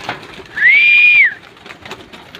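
A single clear coo from a pet pigeon or dove rises and holds for about a second, close and loud, over a quiet background with faint bird sounds.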